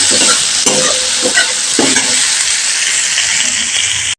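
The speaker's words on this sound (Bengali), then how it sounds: "পটলটাকেও আমি ভালো করে ভেজে নেব।" Pointed gourd (potol) frying in hot oil gives a loud, steady sizzle with a few clinks of a spatula stirring the pan early on.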